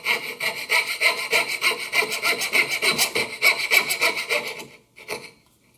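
A hand saw cuts dovetails in wood for a wine caddy, with steady rhythmic back-and-forth rasping strokes, about a dozen, close and loud, before stopping with a final short stroke.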